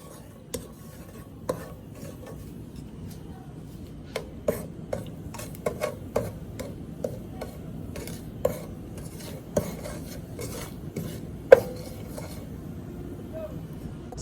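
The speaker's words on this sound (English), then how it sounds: "you have to wait until the sugar turns to liquid, and then you keep stirring it" A spoon scrapes and clinks against a pot as sugar melts into liquid caramel in a Virgin Islands home kitchen, with soft sizzling beneath and a voice talking over it.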